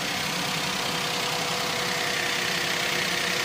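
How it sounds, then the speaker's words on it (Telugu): A Maruti Zen car engine idling, a steady even hum with a faint rhythmic ticking, close and continuous throughout with no voices. "ఇంజన్ చూసుకోండి, ఇంజన్ కూడా పర్ఫెక్ట్ ఉంది"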